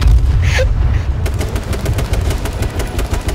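Gunfire in the H1Z1 survival shooter game, a dense run of rapid shots rattling close and loud across the whole stretch, with no voices over it.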